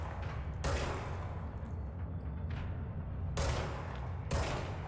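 Gunfire in the video game Control comes as three sharp broadband bursts over a steady low rumble of game ambience, loud and close, with no talking.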